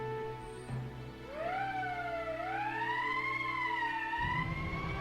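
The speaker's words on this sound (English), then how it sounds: "That's the emergency siren." A video game emergency siren wails, rising and sweeping up and down in pitch, steady and fairly loud over a low hum, with no talking.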